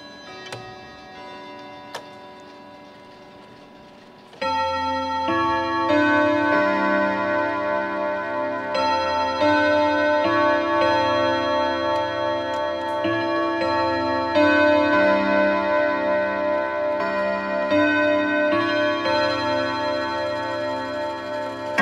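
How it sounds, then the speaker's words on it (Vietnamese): A French-imported ODO 30 chiming clock strikes two o'clock, ringing loud resonant chime tones after a brief ticking lead-in, with the notes sustaining and overlapping for about twenty seconds. "tiếp theo em sẽ thử tiếng chuông của đời 30 để các bác thưởng âm và nhận xét"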